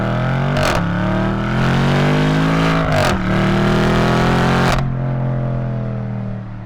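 BMW M8 engine while driving on back roads, a loud sustained mid-pitched drone that rises in pitch with acceleration, interrupted by three sharp gear-shift breaks before settling lower.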